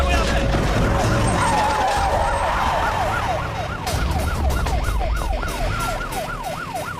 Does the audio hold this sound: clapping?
no